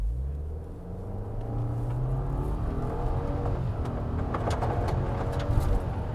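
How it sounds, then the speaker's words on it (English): A 2023 Subaru WRX SPT with a CVT launching on gravel, engine rising steadily in a continuous accelerating drone with rumble and stone crackle, fairly close and alone with no talk. "No brake boost, so we can hear the CVT do its thing."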